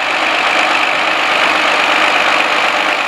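Tractor with narrow row-crop wheels pulling a Grimme potato harvester in a potato field, a steady, loud, continuous engine drone with a broad mechanical roar and no break or talk.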